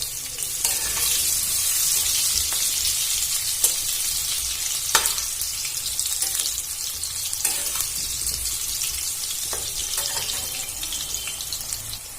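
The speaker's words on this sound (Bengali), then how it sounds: "ভালো করে লাল লাল করে আলুগুলো ভেজে নেবো" Potatoes sizzle steadily in hot oil, a constant crackling hiss with occasional sharper pops and a few clinks, no voices.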